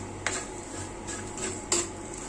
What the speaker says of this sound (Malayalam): കായം കൂടെ കൊണ്ടിട്ട് ഇളക്കി കൊണ്ട് കൊടുക്കാം.